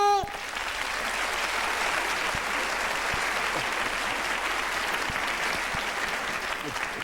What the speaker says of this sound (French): le voilà, on l'applaudit, s'il vous plaît